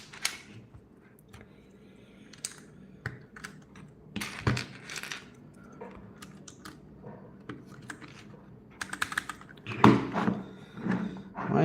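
Keycaps are pried off a GMMK Compact keyboard in scattered plastic clicks and sharper snaps, fairly close, with small handling rustles in between and louder pops near the end.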